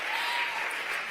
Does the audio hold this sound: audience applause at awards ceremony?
yes